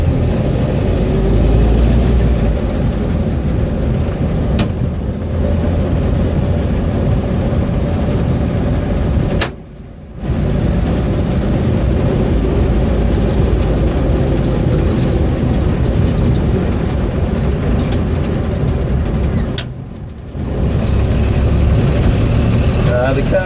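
A 1936 Dodge LC pickup's engine drones loudly and steadily while driving, a constant low rumble with two brief dips around gear changes, and a voice speaks over it.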